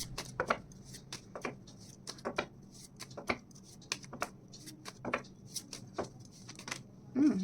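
Tarot cards shuffled and drawn by hand, a quiet close-up series of brisk papery slaps and flicks in irregular bursts, with a soft voice briefly heard at the end.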